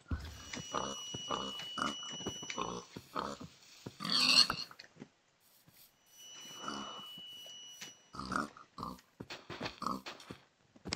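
Pigs in Minecraft grunt and oink in a rapid series of short, snorting bursts, fairly close. The grunting pauses briefly before resuming in quick clusters.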